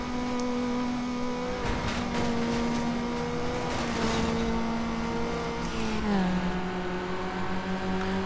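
A car engine in the NFS Underground racing game holds a steady, buzzy drone, then drops in pitch and revs after a downshift, loud and continuous with faint tire and road noise beneath.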